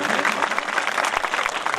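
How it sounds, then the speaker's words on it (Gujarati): An audience at a primary school function gives a loud burst of applause to welcome a guest, with thick, close clapping that holds steady throughout. "તાળીઓના ગડગડાટ સાથે એમને વધાવી લઈશું"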